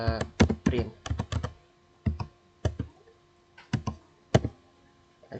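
A command typed on a computer keyboard into a network device's command-line interface: close, crisp keystrokes in quick clusters separated by short pauses.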